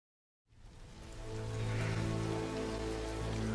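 Steady rain falls in a film scene from The Lord of the Rings: The Two Towers. It starts after a short silence, swells into a dense, continuous wash of drops on a surface, and rises under a low sustained rumble.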